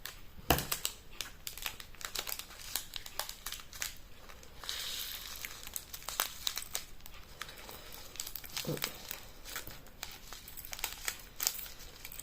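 Crinkling and crushing of a plastic packet as its corner is cut with scissors, a run of sharp crackles and snips close up, no talking.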